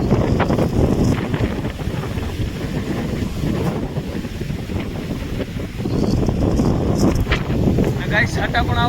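Strong gusting wind sweeps across open ground beside a flooded lake just before rain, a loud continuous roar buffeting the microphone throughout.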